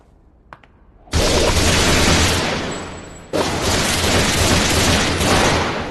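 Sustained anime gunfire during shooting practice at spherical targets bursts in loudly after a quiet moment with a faint click, roars as dense continuous shooting, pauses briefly, then resumes just as loud.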